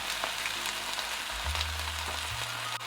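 Yellow wine sizzling as it is poured into a pan with pan-fried pork chops and scallions, a steady, close frying hiss with low tonal hum underneath, no talking.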